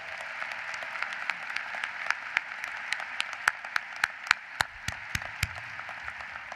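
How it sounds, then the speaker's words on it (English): Scattered applause from a graduating audience at a law school commencement, individual claps standing out sharply over a thinner background of clapping that thins out toward the end. "Let's give her an additional warm round of applause."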